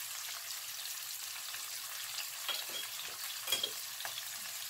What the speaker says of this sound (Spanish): Vamos a esperar a que esto se nos sofríe un poco.